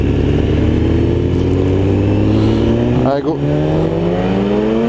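A BMW S1000RR HP4 superbike accelerating hard from a standing start, its engine note climbing steadily in pitch and loud up close, with a brief shift-like break and a voice speaking over it.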